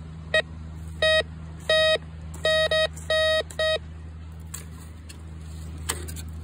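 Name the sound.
metal detector beeping over buried metal in river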